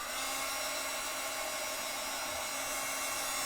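A handheld dryer blowing steadily over alcohol ink artwork, a loud continuous whooshing hiss that holds unchanged from start to finish, no voices.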